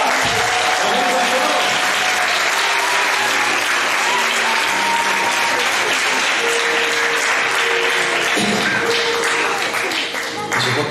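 Concert audience applauding a small group of Seca instrumentalists, loud dense clapping filling the room for several seconds, with sustained tones and voices mixed beneath it.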